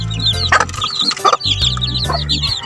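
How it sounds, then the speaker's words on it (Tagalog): A broody mother hen with chicks clucks and murmurs in short repeated calls, close by, over a constant low background hum. "Ito yung bulig na inahin."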